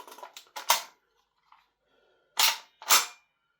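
A VFC AKS74U gas blowback airsoft rifle fires 0.3 gram BBs through a chronograph: a quick cluster of sharp cracking shots, a pause, then two more loud close shots.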